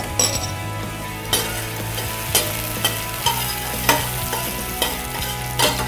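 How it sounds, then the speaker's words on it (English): Onions frying in a pan with a steady sizzle, and a spoon scraping and clinking against the pan in regular strokes about once a second, close up with no talking. "We'll go ahead and add your onions."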